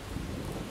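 Heavy rain pours with a low rolling thunder rumble beneath it during a storm in the survival game Miscreated, a short dense wash of sound with no voices.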